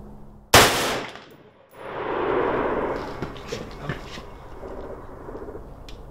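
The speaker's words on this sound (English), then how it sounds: "Now that was 30 rounds, so you can see how fast those rounds are coming out there." A semi-automatic rifle fires at a shooting range: one sharp, loud report, then a burst of rapid shots that blur into a fast rolling stream and taper off.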